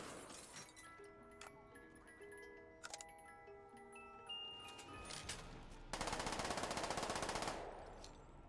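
Rapid Uzi gunfire bursts from the Black Ops 3 Tranzit zombies map, with scattered shots and clattering effects building to a loud sustained automatic burst near the end, over game ambience.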